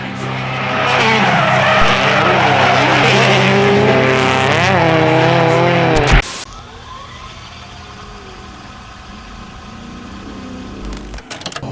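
Loud tire squeal and skidding roar from a 1977 Chevy C10 drift truck at Apple Valley Speedway, wavering for about six seconds before cutting off abruptly into a much quieter, distant engine hum with faint clatter.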